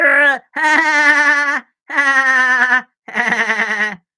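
A voice mimics a goat's bleat in four wavering, nasal bursts separated by short pauses, loud and close with no other sound between them.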